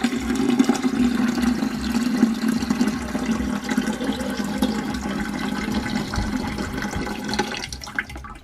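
Water pours steadily from a 48-ounce jar into the tank of a HoMedics TotalComfort Deluxe ultrasonic humidifier, a continuous close gurgling and splashing stream that tapers off near the end.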